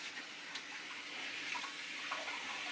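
Tap water runs in a steady, hissing stream, filling a pot with a pork knuckle for borscht broth. The flow is close and continuous, with no voices.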